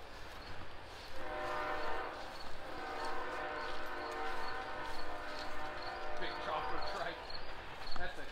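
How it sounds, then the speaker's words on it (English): A big train passes at a distance with a long sustained horn blast, its tonal chord rising over outdoor rumble and wind, alone with no talk over it. "Must be a big train coming through here."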